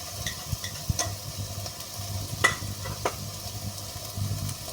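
Garlic and onions sautéing in a pan for adobo made with chicken liver and gizzard, a soft close sizzle broken by a few sharp spatula scrapes and stirring clinks.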